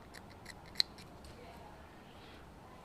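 Scissors snip through the end of fabric binding in a quick series of close, soft crisp cuts, with one sharper snip, in an otherwise quiet room.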